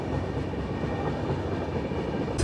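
Howrah-Dhanbad Black Diamond Express with new LHB coaches at a station platform gives a steady low rumble of the train running, a continuous rolling noise with no clear voices.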